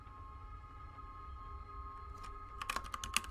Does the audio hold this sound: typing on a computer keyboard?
yes